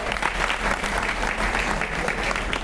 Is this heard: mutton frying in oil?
no